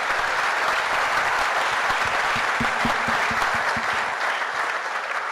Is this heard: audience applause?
yes